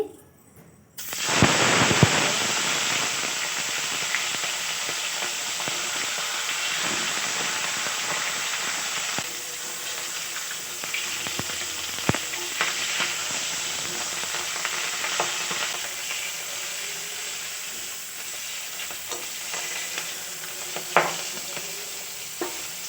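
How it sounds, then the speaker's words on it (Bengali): Fish heads rubbed with salt and turmeric frying in a very hot pan of oil: after a brief quiet start, a dense, continuous crackling sizzle runs for over twenty seconds, with occasional sharper pops and spatters. "মাথাগুলো ভাজা হয়ে গেছে"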